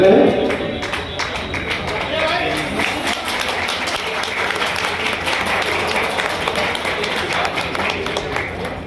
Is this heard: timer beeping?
no